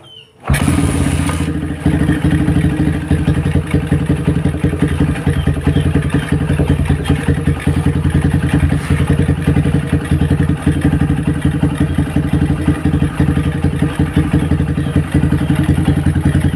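A Honda Megapro motorcycle, newly wired with its ignition running without a battery, sputters to life and settles into a loud, close, steady engine chug with a rapid pulsing beat.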